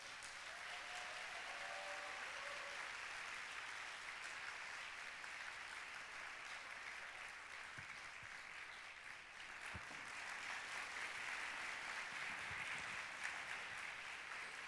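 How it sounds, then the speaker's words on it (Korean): Steady applause from a church congregation welcoming their pastor at the opening worship service of the 2018 Geumran mission conference, sustained and fairly even throughout. "여러분 큰 박수로 환영해 주시기 바랍니다"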